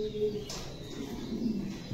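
Mundi breed pigeons in a loft coo softly in low, rolling murmurs, close by but faint, with a brief rustle in between and no talk over them.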